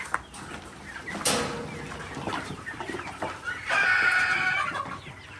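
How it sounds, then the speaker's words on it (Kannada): Native country chickens in a poultry shed holding about 300 birds, clucking and calling steadily at close range, with one sharp loud squawk and a busier burst of calls toward the end. "ಇದರಲ್ಲಿ ಸುಮಾರು 300 ಕೋಳಿ"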